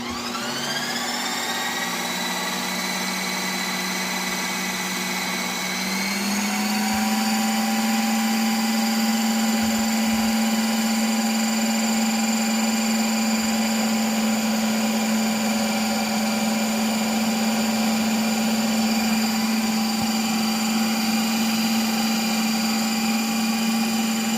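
A Ninja Creami machine churns mint chocolate chip ice cream with a loud, steady motor whine that rises in pitch after a few seconds, then holds constant and close throughout.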